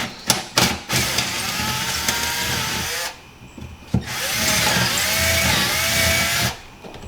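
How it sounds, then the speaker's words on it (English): A power drill whines loudly and steadily, boring holes in a Sea-Doo SPXX hull, pausing briefly mid-way before spinning up again, close by with no talking. "I'm drilling holes so the water can come in the hull"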